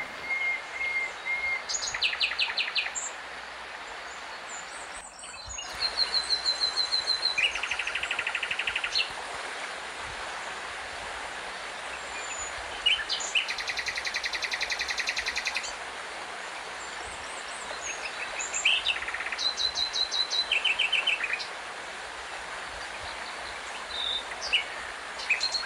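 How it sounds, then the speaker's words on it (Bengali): Various birds call in a forested mountain valley in North Bengal's Kalej Valley, with repeated bright chirps and trills, some near and some farther off, over a steady hiss of insects and flowing water. "চারিপাশে নানান পাখির ডাক,"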